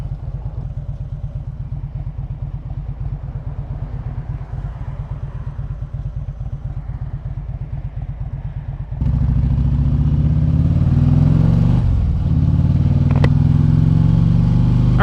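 Riding a motorcycle through road traffic: a steady rapid engine putter up close, then a sudden surge into louder wind-buffeted acceleration and road roar, with a brief whoosh of a passing vehicle near the end.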